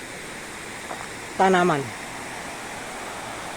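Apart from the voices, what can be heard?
underground river flowing in Gua Sodong cave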